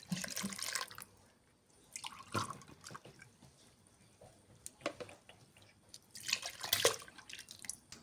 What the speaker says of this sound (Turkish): 5 su bardağı da süt ilave ediyoruz